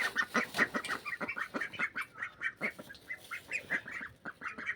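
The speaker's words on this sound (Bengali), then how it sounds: "আমি এখন আমার হাঁসের ঘরে যাচ্ছি। দেখো আমার হাঁসগুলো আমাকে দেখে আসছে।" Ducks approaching to be fed quack in a rapid, overlapping chorus of nasal calls, several birds close by, calling continuously in an uneven rhythm.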